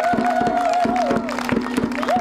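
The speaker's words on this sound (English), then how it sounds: "give Dr. Trisha Nunn a huge round of applause." An outdoor audience at a historical marker dedication claps and cheers, with regular close handclaps and some vocal whoops ringing over the group throughout.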